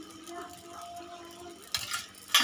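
Vegetables being stirred with turmeric powder in a pan: a soft, faint background sizzle, then a couple of louder scraping stirs of the spoon near the end, with no talking.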